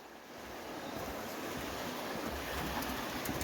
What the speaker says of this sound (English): Very high river today